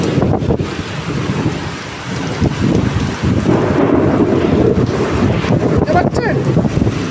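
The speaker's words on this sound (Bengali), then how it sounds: "মেঘ ডাকছে।" A spring Kalbaishakhi thunderstorm pours heavy rain with gusting wind, while thunder rumbles low and continuous close by, a loud, steady roar throughout.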